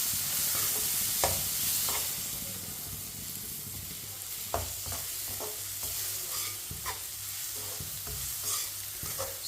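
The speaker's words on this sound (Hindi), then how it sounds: "इसे लाजमी चम्मच चलाते हुए पकाएं, चम्मच छोड़ना नहीं है" Semolina slowly roasting in a pan for suji halwa, stirred continuously with a spoon, gives a steady sizzle with repeated scraping strokes and scattered clicks from the spoon against the pan.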